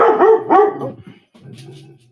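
A dog barks twice in quick succession inside a cave with gypsum crystals, fairly loud and close, followed by a lower, rougher growl-like vocalization trailing off.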